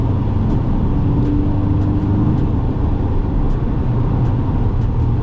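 A 2017 Porsche 718 Boxster with a PDK dual-clutch gearbox, driving in fifth gear during a downshift, gives a steady, loud engine and road drone that holds evenly throughout, with no distinct shift blip standing out.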